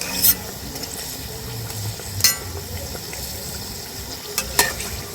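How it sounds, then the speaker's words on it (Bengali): A potato tiffin snack made from boiled potatoes fries in a pan until reddish-brown, with a steady low sizzle of oil and a few brief sharp crackles and utensil taps. "এইভাবে লাল লাল করে ভেজে নিচ্ছি।"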